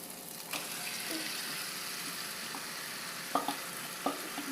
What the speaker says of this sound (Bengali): তো দিয়ে দিচ্ছি চিকেনটা, ম্যারিনেট করাটা